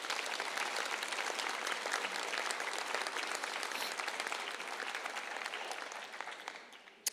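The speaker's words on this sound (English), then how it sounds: "let's give our family literacy team a round of applause" Sustained audience applause at an adult and family education commencement ceremony, dense steady clapping filling the hall for about six seconds before tapering off near the end.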